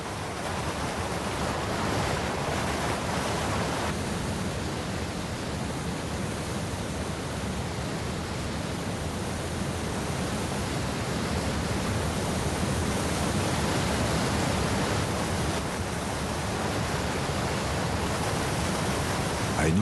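Torrential waterfalls and streams fed by Andean rains pour in a steady, dense roar of rushing water, loud and unbroken throughout.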